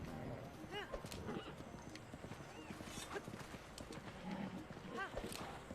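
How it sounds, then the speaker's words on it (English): In the Breath of the Wild video game, horse hooves clip-clop at a steady gait and a horse whinnies a few times. The sound sits under a person talking over gameplay. "This horse will be tamed."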